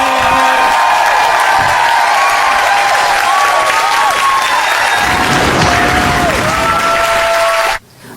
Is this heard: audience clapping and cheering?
yes